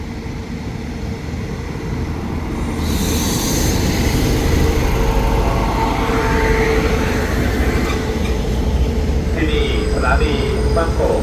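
Special express passenger train at Ban Pong station in Thailand, a steady loud rumble of rolling cars and engine drone throughout, with a brief squeal and rising tones, under an announcer's public-address voice.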